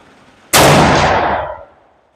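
A single loud 400 Legend rifle shot firing Winchester ammunition cracks sharply outdoors, its broad blast rolling off and fading over about a second, with no talking.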